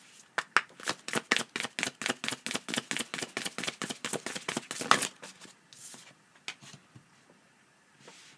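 A deck of tarot cards is shuffled close up, giving a rapid run of crisp, regular riffling snaps that end sharply, followed by a few soft card handling sounds in a quiet room.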